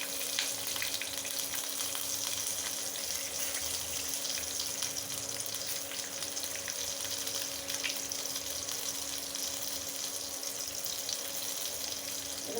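Black cumin and fresh green chili tempering in hot oil for a fish curry give a steady, dense sizzle that crackles without pause from start to finish, with no voices.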